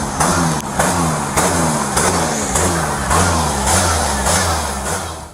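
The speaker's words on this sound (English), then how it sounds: "the engine was revving but not moving, creating more exhaust noise" A car engine revs repeatedly while idling in place, rising and falling in steady surges, loud and close with a rough exhaust rumble.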